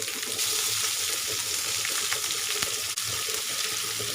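Fish frying in a pan with curry leaves and coriander, a steady close hiss and crackle of hot oil holding throughout with a small clatter near the end.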